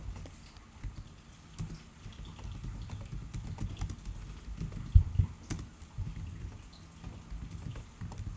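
Someone types on a computer keyboard, scattered light key taps at an uneven pace with one louder clack near the middle, quiet and close with no voice.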